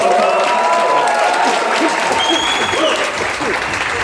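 An audience at a drag queen talk and meet-up applauds steadily throughout, dense clapping mixed with crowd noise and scattered voices and whoops rising above it.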